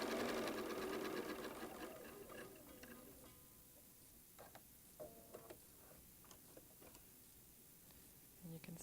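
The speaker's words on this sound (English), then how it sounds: "just stitch your 1/4 inch seam right down" A sewing machine stitches a quarter-inch quilt seam in a burst of rapid, even whirring at the start, then gives way to faint scattered ticks and clicks of fabric handling.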